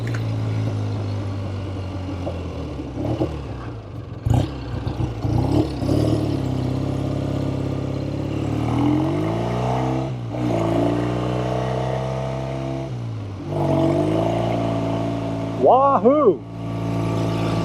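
A 1970 Triumph TR6 Tiger motorcycle engine runs on the road, a loud, steady, throaty drone that dips and climbs with gear changes and revs, as a rider talks and whoops over it.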